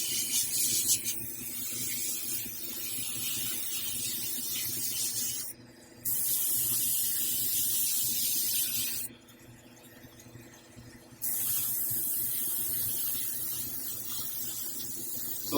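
Aerosol spray paint hissing onto a Hulk sculpture in a workshop, several long, close, steady bursts separated by short pauses, with a low hum underneath.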